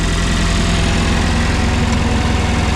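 A large engine runs at a steady idle close by, a loud, even low rumble with constant vibration and no talking.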